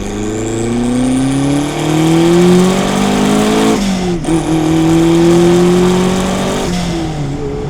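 A turbocharged drift car accelerates hard, its engine note climbing through the gears with a brief lift around the shift before revving up again, loud and close with no talking.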